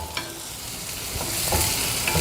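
Onion and garlic sautéing in butter in a pan for a broccoli soup, a steady soft sizzle with occasional stirring scrapes, close and continuous with no talking.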